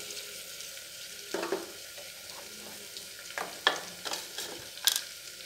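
Chopped onions with green chillies and a cardamom pod frying in a pan for tomato rice, a faint steady sizzle punctuated by several sharp scraping stirs of a spoon against the pan.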